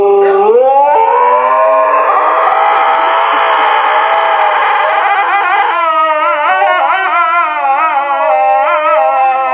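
A dog lets out one long, loud, close howl that wavers up and down in pitch for several seconds, with no talking over it.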